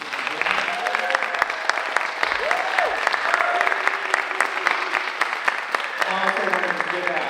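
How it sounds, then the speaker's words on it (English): Warm applause from an art-show opening reception audience fills the room steadily, with a few voices talking and calling out over the clapping. "we would like to just extend a warm applause for Shakara Marcus."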